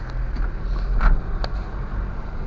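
A motorcycle travelling along a road gives a steady low engine drone with wind rush, fairly close and continuous, with a few brief rattles and clicks and no talking.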